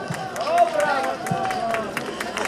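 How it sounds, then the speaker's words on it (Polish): Rhythmic clapping from a crowd for the mayor at a painting-contest award ceremony, steady and moderately loud, with a voice speaking over it. "Wielkie brawa."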